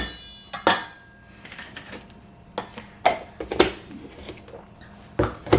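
A spoon scrapes and clinks against a bowl as ambrosia salad is stirred together with sour cream, with several sharp knocks spread among quieter, softer mixing sounds.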